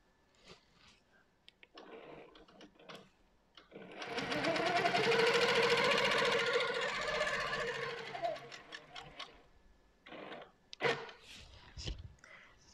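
Handi Quilter longarm quilting machine on a frame stitches placemats, a fast steady whirring buzz running for about five seconds in the middle, with quieter handling noises and brief bursts before and after.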